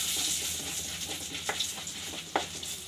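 Vegetables frying lightly in butter for upma give off a bright, steady sizzle, broken by a few sharp spoon taps against the pan, with no talking.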